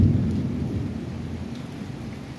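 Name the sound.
thunderstorm with thunder and rain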